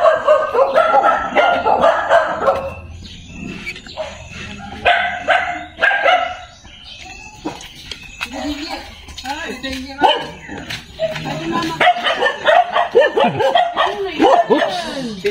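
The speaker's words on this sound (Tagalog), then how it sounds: "Maraming aso." Several dogs bark and yip excitedly, some close, some farther off, with people talking over and between the barking.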